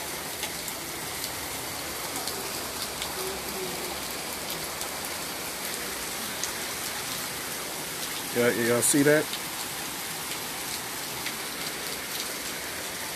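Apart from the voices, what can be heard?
hard rain falling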